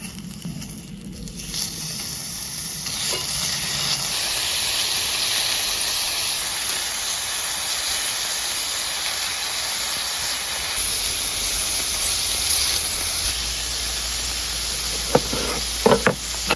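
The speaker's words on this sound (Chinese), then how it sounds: "这油脂，这瘦肉，这种锅这么一煎，升华，这带你煎黄了" Pork knuckle sizzles and hisses steadily in a hot pan, a continuous close frying crackle with a few sharp pops near the end.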